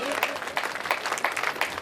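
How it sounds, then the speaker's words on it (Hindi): Brief burst of crowd applause at a temple festival gathering with a saint assembly, the claps coming in uneven clusters that rise and fall, with some voices mixed in. "एक बार जोरदार तालियां बजाकर इस संस्थान का स्वागत करें।"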